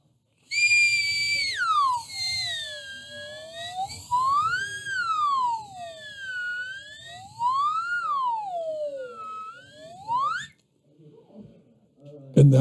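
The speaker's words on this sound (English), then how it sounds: "And that was the slide whistle." A slide whistle plays a song alone for about ten seconds, gliding up and down in long, swooping phrases. The tone is clear and fairly loud, and faint room noise and a brief voice follow.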